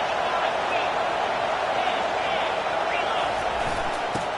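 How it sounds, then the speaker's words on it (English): A steady, dense roar from a large stadium crowd in a football video game on a big third down, filling the whole clip at an even level beneath a commentator's voice. "Big third down as the crowd gets behind this defense."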